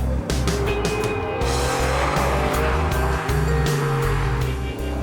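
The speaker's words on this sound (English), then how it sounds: "The engine is fantastic. It's silky smooth like a turbine." A Pagani Zonda supercar engine screams at speed on mountain roads, loud and close, its revs rising and dropping through quick gear changes, with some tyre squeal and no talking.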